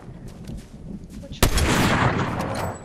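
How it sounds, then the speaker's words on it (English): A sharp gunshot from the Fortnite video game cracks out loud and close midway, followed by a roaring burst of gunfire and explosion noise during a trios sniping match against riot shielders. "now I'm missing all my shots"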